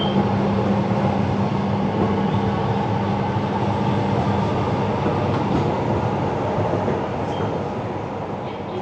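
Steady rumble and rolling clatter from inside an LRT train carriage on the ride from Cawang to Bekasi, continuous and fairly loud throughout with no one talking.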